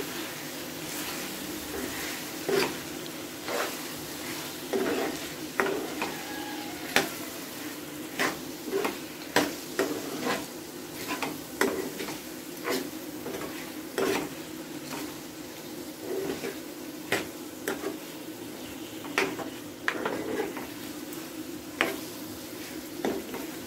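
Masala kaleji (liver) fries in a pan with steady low sizzling, broken by repeated sharp scrapes and clicks of a spoon stirring against the metal, with no talking.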